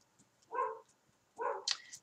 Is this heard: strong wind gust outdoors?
no